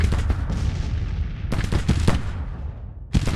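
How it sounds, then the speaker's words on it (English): Artillery guns firing in the Grand Tactician Civil War strategy game: a rapid series of sharp booming reports, clustered and overlapping, with a final loud shot after a brief lull. "you can tell from the sound of the guns going off"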